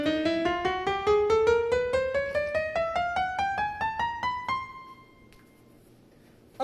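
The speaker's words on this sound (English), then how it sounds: "When you play the notes that are directly next to each other on the piano" Piano playing an ascending chromatic scale, evenly spaced single notes climbing in pitch for about four and a half seconds, the last note ringing out and decaying alone into near silence.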